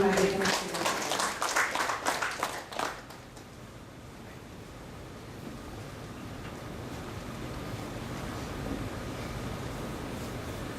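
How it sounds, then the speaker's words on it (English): Audience at a corporate identity launch ceremony gives a short burst of clapping that fades within a few seconds, leaving quiet room noise. "Please give a warm round of applause to Yang Berbahagia, Professor."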